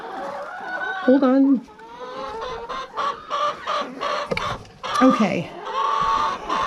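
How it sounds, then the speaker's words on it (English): Backyard homestead chickens cluck and squawk around a coop in winter, a series of close, irregular bursts and trilling calls, while a person speaks briefly between them. "I got to navigate chickens here."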